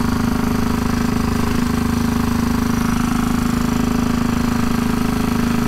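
A motorbike engine runs steadily and loudly throughout, a constant close droning hum with no pauses or talking.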